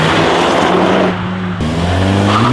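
A VW Golf 8 engine revs loudly with a smooth, synthetic-sounding artificial drone, dipping briefly before the pitch climbs again.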